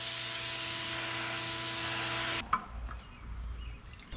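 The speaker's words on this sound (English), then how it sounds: "I spray 2 coats of vinyl sealer and sanding with 320 grit in between the coats" A spray can of vinyl sealer hisses in one steady, loud burst for a couple of seconds while refinishing an old bathroom vanity, then stops, leaving faint handling noises and low rumble.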